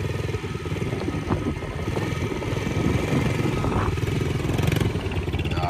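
Yamaha TTR-110 dirt bike circling a small dirt track, its small engine buzzing steadily and fairly close throughout with light mechanical clatter.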